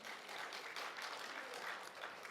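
An audience at an evangelism seminar claps in a steady, dense burst of applause, faint and distant, lasting a couple of seconds without a break.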